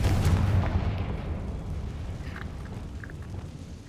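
A Confringo fire spell blast in the Hogwarts Legacy video game, landing as a heavy booming explosion at the start that rumbles and decays over several seconds, with faint crackling in the tail.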